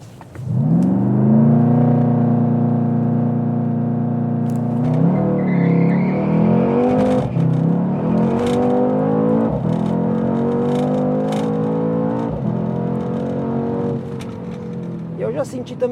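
A Mercedes-AMG C 63 S engine revs loud and close, climbing in pitch through a strong acceleration and then holding a steady high drone, with a brief shift midway.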